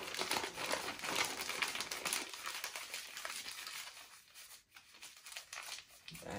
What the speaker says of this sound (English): you can always take some newspaper or some paper towels and kind of wedge it in there